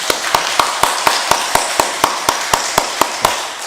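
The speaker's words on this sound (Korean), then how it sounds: "우리 환영의 박수 크게 해주시겠습니다" Church congregation at a Sunday service clapping in welcome, a steady, evenly spaced run of sharp claps, about fifteen in a row, at a brisk regular rhythm over a soft room wash.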